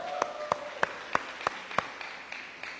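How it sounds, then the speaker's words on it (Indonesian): Sparse, evenly spaced claps sound at a Sunday church service in Philadelphia as the congregation thanks its volunteers, about a dozen quiet, distinct smacks with no dense crowd roar. "Everyone, kasih tepuk tangan."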